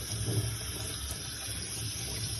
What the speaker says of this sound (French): il faut le passer sous l'eau pour enlever tout ce sel